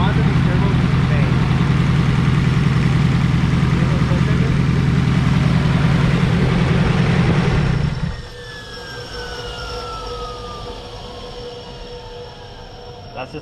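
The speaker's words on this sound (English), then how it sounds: "It's idling, I'm just gonna shut it off and it spools down." A turbocharged SR20 engine in a Nissan 240SX S14 idles with a loud, steady low rumble, then cuts off abruptly, leaving a fading whine as the turbos spool down under a faint hiss.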